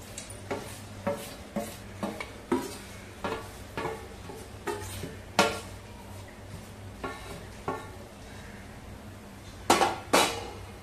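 A spoon stirs a modak filling of jaggery, wheat flour, ghee-roasted cashews, almonds, pistachios and poppy seeds in a pan, giving repeated scraping clinks against the metal at an uneven, roughly half-second pace.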